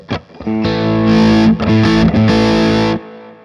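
An electric guitar runs through a PRS Sonzera 50 combo amp with overdrive and delay, playing a loud sustained chord that rings for a few seconds before it cuts off, after a brief opening pluck.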